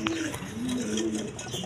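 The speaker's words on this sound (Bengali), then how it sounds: "একদম সুস্থ সবল কবুতর দেখেন," A black racer pigeon cooing up close, soft low drawn-out coos repeating through the short stretch with no talk over them.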